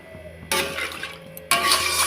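Broth being poured into a pan of puti fish curry, arriving in two bursts of splashing liquid separated by a short pause, close and fairly loud over a quiet kitchen background.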